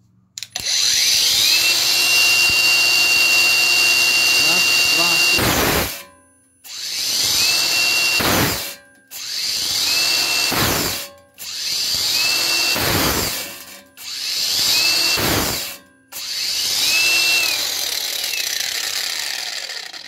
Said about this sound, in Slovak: Pokračujem Einhelom a začnem tlačiť doslova tvrdo na tú brúsku a uvidíme, po koľkých sekundách sa vypne.